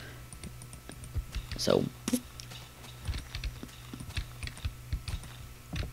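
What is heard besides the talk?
old computer keyboard space bar clicking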